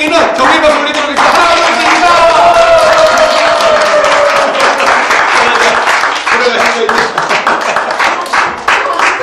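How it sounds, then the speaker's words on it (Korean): A church congregation at a Christmas service applauds the children, a loud, dense wash of clapping mixed with voices and tonal sound throughout. "우리 아이들에게는 경의 박수 올리도록 하겠습니다."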